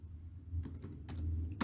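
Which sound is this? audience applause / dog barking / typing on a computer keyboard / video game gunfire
typing on a computer keyboard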